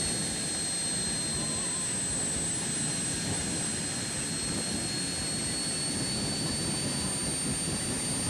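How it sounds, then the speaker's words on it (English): A J85 jet engine on a drag racing car at a speedway, producing a steady, loud, continuous roar with a high whine on top that holds evenly throughout, with no voices. "J85 jet car."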